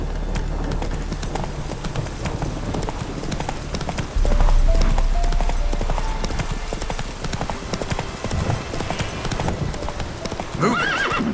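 Roach the horse in The Witcher 3 galloping with rapid, loud clip-clop hoofbeats throughout, ending in a shrill whinny near the close.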